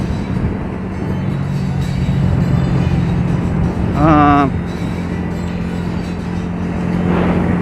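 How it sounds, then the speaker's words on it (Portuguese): A car passes close on a road, a broad rising and fading roar with a brief tonal horn-like sweep in the middle, over steady ambient hum. "Peraí, deixa o carro passar, eu já falo de novo."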